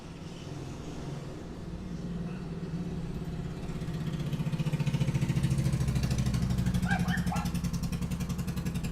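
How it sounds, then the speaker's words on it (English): A motorcycle engine rumbles outside, growing louder as it revs and idles nearby, a steady throbbing drone with a brief faint chirp over it. "Actually, it's just a motorcycle, like, outside my window."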